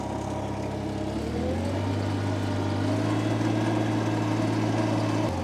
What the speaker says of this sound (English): enjoy the sound of the tractor for a minute or so